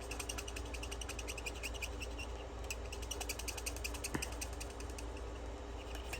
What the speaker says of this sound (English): Anybody else like that squeaky sound from their blends?